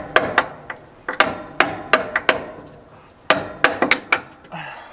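A grade 8 bolt is hammered into place on an off-road vehicle being prepped, with sharp metallic hammer blows coming in quick uneven bursts of strikes separated by short pauses.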